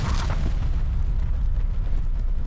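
A car blowing up in the shooter game Call of Duty Cold War, a loud booming blast at the start that decays into a long, heavy low rumble with no talk over it.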